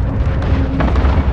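A grenade explodes in Call of Duty Modern Warfare on PS5, heard as a brief, dense, rumbling blast.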